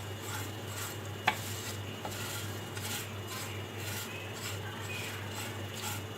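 Vermicelli (seviyan) being stirred and fried in leftover ghee in a pan for Eid sheer khurma, giving a steady soft sizzle and scraping with one sharp utensil tap against the pan, no talking.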